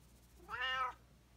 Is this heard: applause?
no